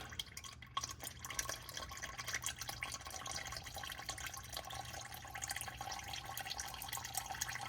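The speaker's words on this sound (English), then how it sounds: "And then I just dump the rest of the oil out into it." Used engine oil from a high-mileage 219k-mile Ford F-150 EcoBoost oil filter trickling and dripping into a container, a quiet, irregular patter of drips and small splashes close by.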